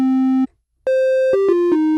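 A Serum synthesizer plays a sequence of steady, buzzy tones: a low note, a pause, then several shorter notes at shifting pitches, loud and clean with no voices.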